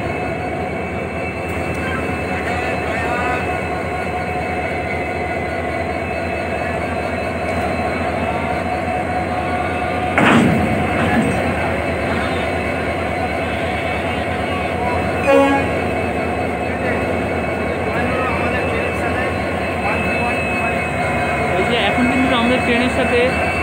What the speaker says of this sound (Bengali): এই যে আসছে WBT ডিজেল লোকোমোটিভ শিলিগুড়ি।